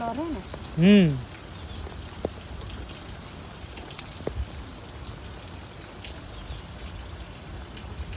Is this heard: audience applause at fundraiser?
no